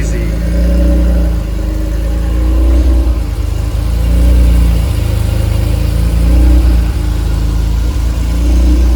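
The turbocharged Honda NSX engine runs at a low, steady idle with gentle rises and falls in pitch, close and loud, with a voice talking over it at times.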